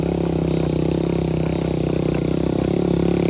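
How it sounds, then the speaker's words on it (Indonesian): An SUV engine labours up a rough, steep uphill road, its loud and steady drone mixed with clattering and scraping from the rugged surface. "Kita yang kita pakai sekarang juga pakai SUV, ya insya Allah bisa nanjak sana"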